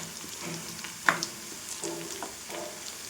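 Garlic frying in oil in a pan for velli karam with onion tempering, a soft steady sizzle with a few clinks and scrapes of stirring, close and quiet.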